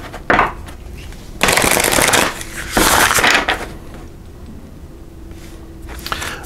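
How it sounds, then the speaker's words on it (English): A deck of tarot cards is shuffled close up, giving two long riffling bursts and a shorter burst of papery rustle, with brief quiet gaps between. "I'm just going to shuffle these, and we'll pull one last card here for you."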